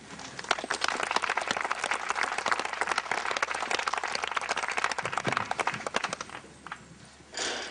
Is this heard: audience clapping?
yes